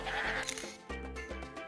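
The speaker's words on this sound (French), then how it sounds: "Regarde tous ces moutons." Sheep bleat in Tomodachi Life, a few overlapping cries from a flock carried over the game's steady background music, fairly loud and close.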